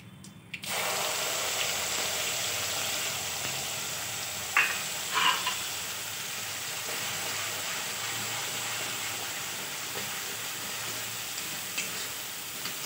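Coconut, milk and brain paste frying in a pan, a steady close sizzle running throughout with a few brief clinks of stirring, no voices.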